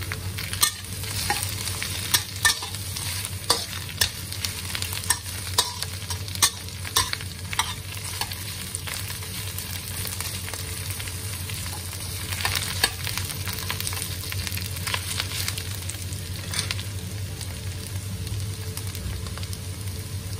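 Onion, garlic, ginger and shiitake mushrooms sauté in a hot pan with a continuous close sizzle, punctuated by frequent scraping stirs and light utensil taps, no voices.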